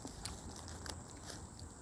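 A sausage roll from a Gold Coast bakery crunches crisply under a bite, with several sharp crackling snaps close to the mouth and faint steady background noise, no talking.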